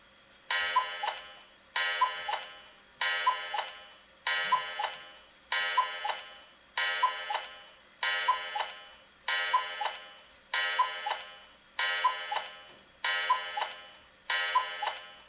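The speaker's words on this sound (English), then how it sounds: "listen to a cuckoo clock" Twelve evenly spaced cuckoo calls at noon from a talking, musical NeoPixel clock repeat in a steady rhythm, each a bright electronic tone, clear and close against silence.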